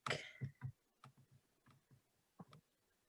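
Keys clicking on a computer keyboard in a quiet room, a faint, irregular patter of light taps with short pauses, close by and alone.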